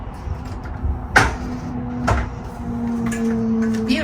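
Inside a Thor Chateau 31EV Class C motorhome kitchen, the oven door gives two clunks about a second apart, close and moderately loud, followed by a low steady hum.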